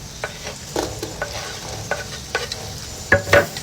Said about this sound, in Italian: Mo prendo il guanciale che ho tagliato a dadini piccolini, anche la cutinella, vedete la cutica, e la metto nel padellone.